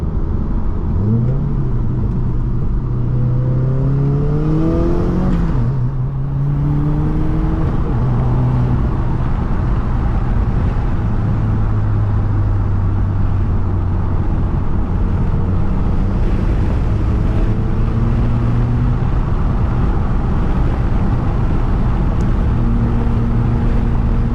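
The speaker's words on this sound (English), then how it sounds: "Back road driving, pretty cool." A 2018 Subaru WRX drives a back road, its engine droning steadily and rising and falling in pitch as it accelerates and shifts, with continuous road and tire rumble throughout and no talking.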